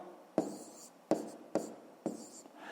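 Numbers written by hand for long division, heard as four short scratchy pen or chalk strokes in quick succession, close and fairly quiet, with no talking.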